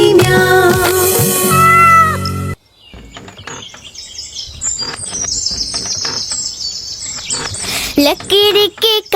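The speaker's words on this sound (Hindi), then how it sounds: "बिल्ली करती म्याऊं" Cat meows ring out in a Hindi children's song, clear sung and cartoonish mews over music at first, then a busier stretch of chirpy, bird-like calls with more meows toward the end.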